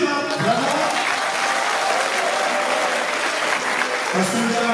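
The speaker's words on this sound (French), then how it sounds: "Vous pouvez l'applaudir, hein, vraiment." Dense, loud applause from an audience fills the room for a town event honouring Mana, steady and sustained throughout with faint voices mixed in.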